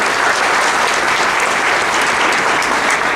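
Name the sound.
audience applause at school event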